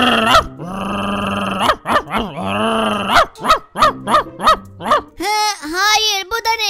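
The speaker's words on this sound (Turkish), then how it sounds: "Köpeğinizi çekin lütfen, korkuyorum." Dog growling and barking in the Minecraft video game, a series of short harsh yelps and growls packed tightly together, loud and close, with game sounds and a cartoonish voice mixed in.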